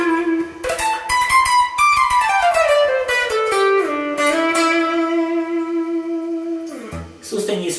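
A PRS electric guitar plays sustained, singing notes with smooth bends and slides, ringing out alone with a slightly driven tone before cutting off near the end.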